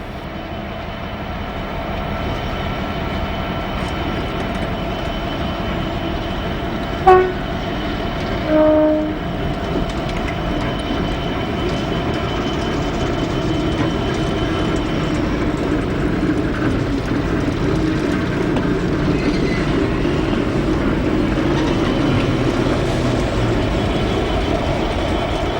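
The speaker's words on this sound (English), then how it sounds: "The shunter returns with only its match wagon in tow." A diesel shunter locomotive rumbles steadily past hauling only its match wagon, a sustained engine drone with a couple of short horn-like tones early on and no talk.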